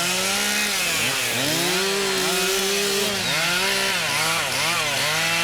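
Several chainsaws whine and rev continuously, their pitch rising and falling as they cut through trees at a forest edge beside a road; the sawing is loud and close, with no talking.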